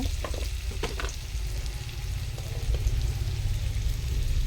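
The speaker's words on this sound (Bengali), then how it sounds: "এখানে আলু ভেজে নিচ্ছি" Potatoes frying in a pan with salt and turmeric, giving a steady close sizzle with a few scraping stirs near the start, the hiss staying level throughout.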